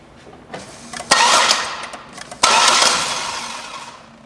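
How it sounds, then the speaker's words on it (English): Starter on a 2000 Buick LeSabre is bumped with the key twice, each burst a whirring crank lasting about a second without the engine catching, close and clear in a quiet space. "I'm just going to bump the starter a few times with the key"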